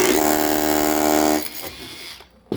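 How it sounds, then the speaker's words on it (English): A power drill pre-drills a hole while a deck rail is installed, giving a steady loud whine for about a second and a half before it stops, followed by quiet handling and a brief knock. "and then we're going to pre-drill the hole"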